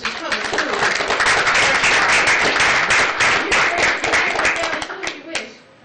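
Applause from an audience at a South Bend city council meeting, a dense sustained patter of many hands clapping, loud and steady for several seconds before tapering off at the end.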